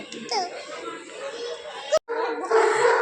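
A dog whimpers and yips in short, whiny bursts, with a brief sharp break midway, fairly close.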